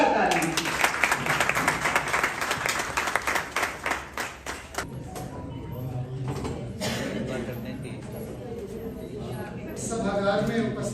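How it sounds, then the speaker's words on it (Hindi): An auditorium audience at a Hindi book launch claps for Vinod, starting as sharp, fairly rhythmic clapping that thins out after a few seconds into scattered claps and low room murmur, with voices talking over the tail. "तो विनोद के लिए जोरदार तालियां।"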